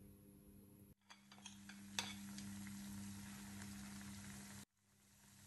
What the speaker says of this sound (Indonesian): Lalu digoreng sampai matang atau sampai agak kecoklatan.